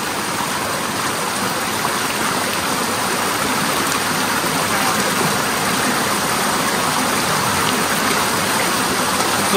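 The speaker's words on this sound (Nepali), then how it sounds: "सो फाइनली हामी चाहिँ खोला आइपुग्यो है" The Rungdung River near Darjeeling rushes steadily along a hiking trail, a continuous broad roar of flowing water that stays even and close throughout, with no talking.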